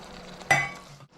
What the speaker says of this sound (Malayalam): നന്നായിട്ടൊന്ന് മിക്സ് ചെയ്തെടുക്കാം